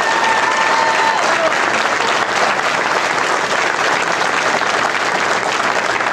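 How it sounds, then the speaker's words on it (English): A large crowd applauds loudly and continuously, a dense wash of clapping with faint cheers and whistles mixed in. "I think they deserve a round of applause."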